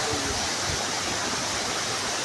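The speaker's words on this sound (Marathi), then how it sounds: "आता आपण धबधबाची एकदम जवळ आलोय" A waterfall near Marleshwar temple in the hills, running low in the dry season, pours as a steady, even roar of broadband water noise close by, with no voices.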